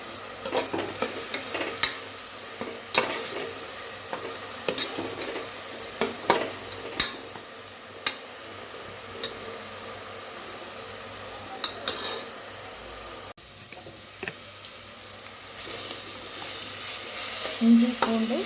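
Ginger, garlic and small shallots sauté in hot oil in a pan, giving a continuous soft sizzle broken by repeated scraping and clinking strokes of a spoon as the mixture is stirred.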